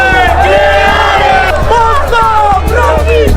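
Protest crowd in Cape Town chanting and shouting together, a loud, dense mass of voices with a rhythmic, repeated beat, sustained throughout.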